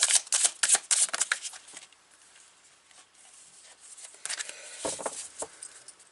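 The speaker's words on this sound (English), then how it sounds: "Let's give it a shuffle." A deck of cards being shuffled up close, with bursts of rapid riffling clicks at the start and again near the end, quieter handling in between.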